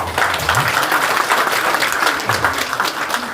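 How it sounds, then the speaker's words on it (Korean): A crowd at a political party members' rally applauds steadily, dense clapping filling the room from start to finish, with a faint voice briefly underneath. "다시 한번 강연해 주신 두 분 국회의원님들에게 뜨거운 박수 부탁드립니다"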